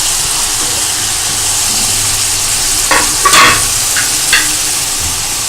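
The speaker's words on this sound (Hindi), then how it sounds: "और ये चिकन इसमें शामिल करके" Chicken stir-fried for spicy Chinese fried rice gives a loud, steady sizzle and hiss, with a few scraping stirs of the utensil near the end and no talking.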